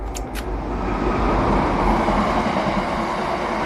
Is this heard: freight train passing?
yes